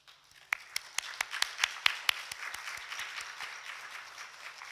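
A church congregation at a Sunday service applauds a pastor's family, a small audience clapping in a sharp, fairly even rhythm that swells and then thins into scattered softer claps.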